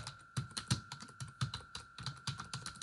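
Rapid typing on a computer keyboard while entering a database label, a steady run of close, crisp key clicks with an uneven rhythm and no voice over them.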